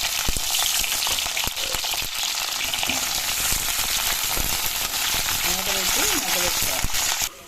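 Halved ivy gourds (dondakaya) fry in hot oil as a loud, dense, continuous sizzle. It holds steady with scattered sharp crackles, and a brief voice is heard near the end.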